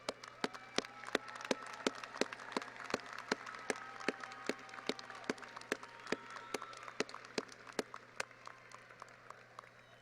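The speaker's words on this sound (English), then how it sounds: "Give them a round of applause, please." Applause from an audience honouring family members at a College of Education ceremony, heard as a steady spread of many hands clapping with sharp individual claps standing out, fairly distant and even throughout.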